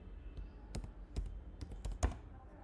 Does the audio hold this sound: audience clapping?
no